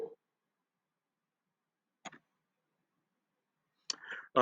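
Sharp computer mouse clicks at a desk: one near the start, another around two seconds, then a few more toward the end, separated by silence.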